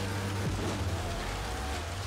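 Rain falling in the Forza Horizon 3 racing game, a dense, steady hiss spread over a low engine drone, continuous and fairly loud with no break.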